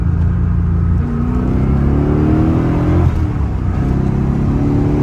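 A 1993 Corvette Callaway Supernatural 450 engine revs hard and loud up close, its pitch sweeping up and falling back through several rising and easing pulls with no talking over it.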